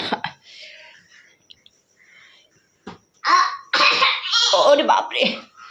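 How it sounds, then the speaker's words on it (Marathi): A small child gives a couple of short coughs at the start, then laughs and giggles loudly while an adult speaks nearby. "हा, खोकलून दाखव."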